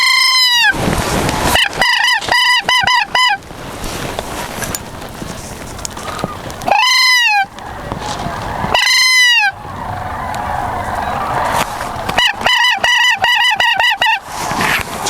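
A flock of sandhill cranes calls loudly and close during a youth crane hunt, with repeated rolling, trumpeting bugles in overlapping bursts separated by short pauses.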